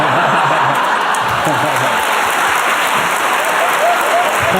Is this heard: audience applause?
yes